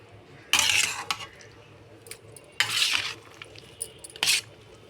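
Tamarind being mixed through pulihora rice in a pot with a spoon, giving three separate bursts of scraping, clinking stirring sounds, each about a second long, close by and fairly loud against a quiet background.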